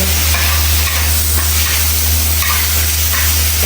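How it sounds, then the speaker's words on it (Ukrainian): Leftover food from the day before, with pepper, fries in a pan over a strong flame, giving a loud, continuous sizzle and hiss with no talking. "Смажуємо трішки."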